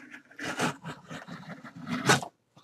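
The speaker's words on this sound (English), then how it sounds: "Alright, so let's cut it open." A blade slices open a thick cardboard shipping package, giving a few short scraping, tearing strokes up close, fairly quiet, with no talking.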